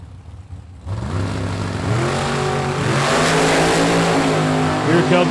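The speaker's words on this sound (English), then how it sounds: "Here comes the Pro Charger Dragster finish line." A Pro Charger dragster roars down a drag strip to the finish line, its engine note climbing steadily in pitch and growing louder over about five seconds, with faint background voices.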